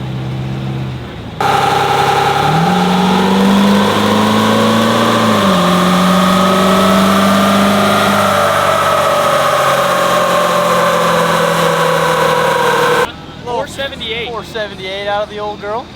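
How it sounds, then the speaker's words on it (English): A 1000HP lifted truck engine revs on a dyno, a loud sustained drone that climbs and sweeps in pitch for about twelve seconds before cutting off, followed by a short burst of talk. "We're gonna slap this unit on the dyno and see what we can't make."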